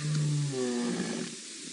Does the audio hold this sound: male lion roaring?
yes